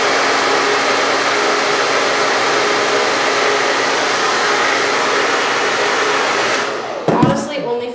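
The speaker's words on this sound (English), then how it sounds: "I put the blow dryer on hot" A blow dryer set on hot roars steadily at close range for several seconds, then cuts off near the end with a brief clatter as it is handled.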